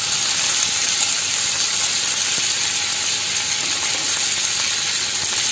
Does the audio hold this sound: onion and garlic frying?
yes